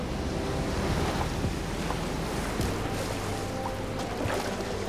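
Ocean surf along the coast at Junon in the video game Final Fantasy VII Rebirth: a continuous, even wash of waves mixed with windy noise, moderately loud and unbroken, with no voices.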